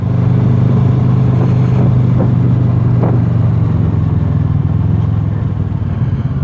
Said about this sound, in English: The motorbike, loud exhaust.